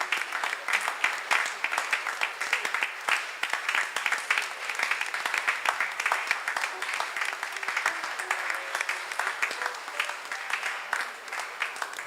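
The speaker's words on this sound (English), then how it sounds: "let's give another round of applause of appreciation to Dr. Nade" A church congregation at a Sunday service claps in sustained, even applause that continues steadily for the full twelve seconds at moderate loudness.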